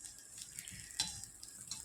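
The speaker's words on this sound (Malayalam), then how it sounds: "അതിന് വേണ്ടി കുറച്ച് തേങ്ങ വറുത്തെടുക്കണം" Grated coconut roasting in a pan for a chicken thoran masala, a soft continuous sizzle with faint stirring scrapes and one brief louder clink near the middle, with no talking.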